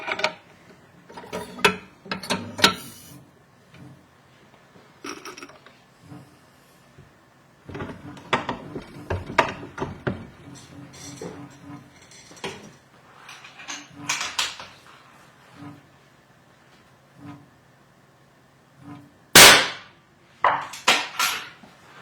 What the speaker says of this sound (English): That was a really hard bolt lift there.